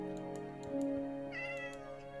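A video game cat meows a couple of times, short and clear, over a steady tonal background hum with faint clicking; no talk.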